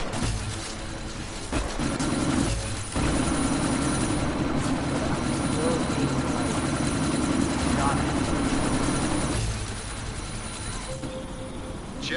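A helicopter hovers nearby in the video game Deus Ex: Mankind Divided, its rotor throbbing as a steady loud drone, with game voices and combat noise layered over it.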